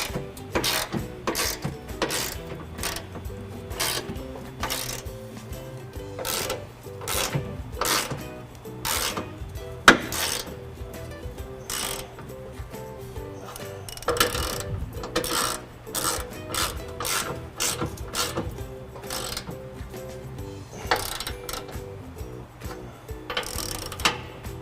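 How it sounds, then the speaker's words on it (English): Ratchet wrench tightening the bumper nuts on a 2018 Ford F-150 during a trailer hitch installation: rapid bursts of sharp clicking in uneven runs, close to the microphone, with brief metallic clanks between strokes. "we're going to go ahead and just tighten up our bumper nuts here"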